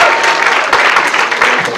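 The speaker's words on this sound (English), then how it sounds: "so clap it up." A school audience at a writers' week gathering bursts into loud, close applause, many hands clapping in a dense continuous patter with a few sharper claps standing out.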